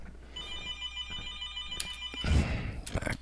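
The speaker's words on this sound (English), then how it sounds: "I'm going to ignore that phone call right now" A telephone rings in a room while someone types in email details at a computer, its steady tonal ring running through most of the moment before a louder rustle near the end; no one speaks.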